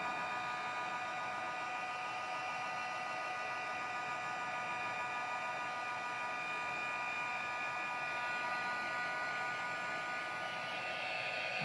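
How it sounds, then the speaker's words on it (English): A heat gun blows steadily over chalk paint to dry it, a constant airy whir with a faint tonal hum, unbroken and fairly quiet throughout. "Now you don't have to use a heat gun, but I'm using it for the purposes of this video"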